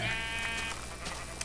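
Minecraft sheep bleat loudly over steady game background sound, with one nasal call up front and fainter cries following, close and alone with no talk.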